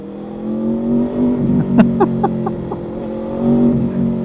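A 2025 Aprilia Tuono V4 Factory motorcycle engine runs steadily in traffic, then revs up in a quick series of sharp throttle blips and downshift bursts before settling back to a loud, smooth V4 drone.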